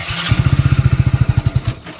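A motorcycle engine chugs in a fast, even pulse of close, loud thumps for about a second and a half, then fades away.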